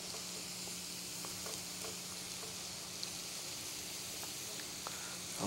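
Eggplant and onions frying in olive oil in a pan, a continuous steady sizzle with small crackles and pops throughout.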